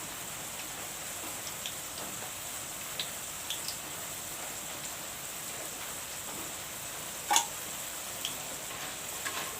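Chickpeas soaked overnight and patted dry with a cloth fry slowly in a pan for homemade chanachur. A steady, soft sizzling hiss runs throughout, dotted with small crackles and one sharper pop.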